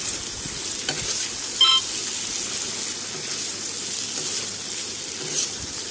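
Flour for homemade singra is stirred in a pan, making a steady close hiss with light scraping and a brief clink partway through.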